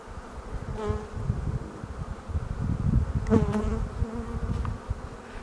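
Honeybees buzz close by in an apiary, one drone rising and falling as it circles near, over a dense, low hum of many more.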